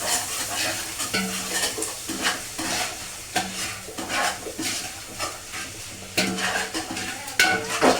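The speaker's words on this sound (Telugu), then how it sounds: "మసాలా వేసుకున్న తర్వాత మళ్ళీ కలిపి" A curry is stirred in a pot after masala goes in, with a spoon scraping the pan in repeated close strokes over a soft sizzle, and occasional louder clanks toward the end.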